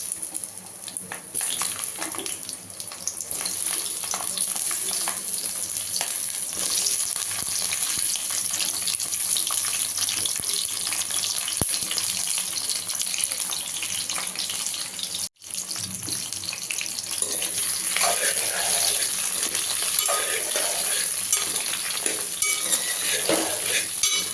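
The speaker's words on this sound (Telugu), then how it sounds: "ఆయిల్ ఫ్రై అయిన తర్వాత దొండకాయలు ఇందులో వేయాలి" Ivy gourd (dondakaya) pieces fry in hot oil for a masala curry, giving a continuous close sizzle with stirring and scraping for over twenty seconds. A short pause interrupts it midway.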